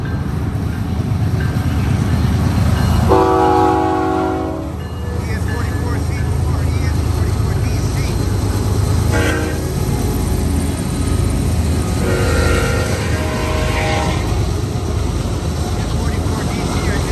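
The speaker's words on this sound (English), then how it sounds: "Got a C9 train here." A BNSF C9 train rumbles past on the main line with a steady, close, low roar throughout. A multi-tone horn sounds for about a second early on, with further fainter tonal blasts later and indistinct voices under the noise.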